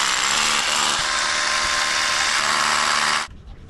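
A rock drill bores continuously into stone, a loud, close, steady high-pitched grinding whine that holds for about three seconds and then cuts off abruptly, leaving quiet room noise.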